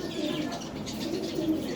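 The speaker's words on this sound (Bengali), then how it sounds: "কবুতর" Racing pigeons give soft, low cooing calls over a faint, steady background, with no voices.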